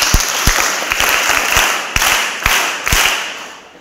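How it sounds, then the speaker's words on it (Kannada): Students at a high school in Karwar clap loudly together, a dense burst of applause with sharp individual claps standing out in a steady rhythm over about four seconds, close and filling the room. "ನಾವು ನಮ್ಮ ಹಳೆಯ ವಿದ್ಯಾರ್ಥಿಗಳಿಗೆ ಒಂದ್ಸಲ ಜೋರಾಗಿ ಚಪ್ಪಾಳೆ ಕಟ್ಟಬೇಕು"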